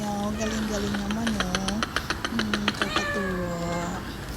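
A pet cat named Meow gives several drawn-out meows, close and clear, with a quick run of sharp clicks or taps between the calls.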